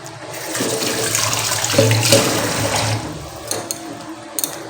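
Tap water runs steadily over a handful of chillies being rinsed in a home kitchen, a continuous splashing rush with brief clinks near the end.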